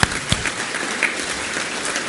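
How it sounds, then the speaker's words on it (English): Audience applause at an ophthalmology society presidential installation, a short burst of crowd clapping with a few sharper individual claps, steady and moderately loud. "Let's all give a very big applause."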